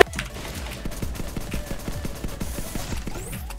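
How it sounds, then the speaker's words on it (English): A video game gun fires rapid, evenly spaced shots in a sustained burst of about a dozen close, punchy reports, with no voices. "this gun actually like makes you so slow when you shoot"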